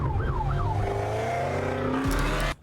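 A warbling police siren wails over loud engine and road noise from a car in Sport Plus mode, close by, with the rising and falling pitch continuing until the sound cuts off abruptly.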